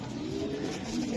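A racing pigeon gives a short, soft, low coo, heard alone and close by.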